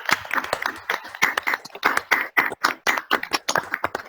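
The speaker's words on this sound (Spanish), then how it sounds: "yo empiezo con el aplauso" A few people clap after an astronomy talk, sparse and uneven claps close by, each one distinct rather than blending into a wash, fading in and out over a few seconds.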